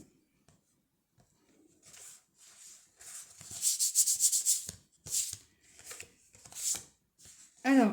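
A card is rubbed with a series of soft, dry scratching and swishing strokes, close and fairly quiet, in short irregular bursts.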